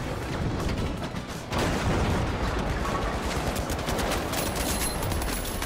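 Sustained gunfire rips through a match of the team shooter The Finals, loud and continuous with rapid overlapping shots and heavy impacts, swelling to a thicker barrage after a brief lull.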